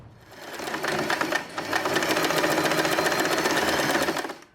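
A sewing machine runs in one steady, fast mechanical stitching burst while temporarily tacking the folded center bow of a fabric turban hat. It sounds close and fairly loud, with no talk.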